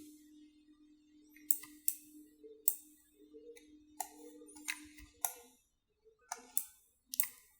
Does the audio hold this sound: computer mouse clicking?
yes